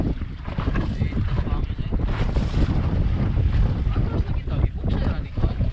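Strong wind buffets a fishing boat at sea during reef fish jigging, a constant rushing roar with gusty microphone noise and water wash, no voices heard.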